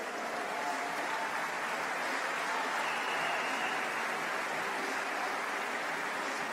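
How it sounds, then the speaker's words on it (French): At a cesta punta international final in Saint-Jean-de-Luz, a crowd applauds the players, an even, hissing roar of many hands heard from a distance with no pauses, a faint voice briefly audible beneath it. "pour ça, on va les applaudir"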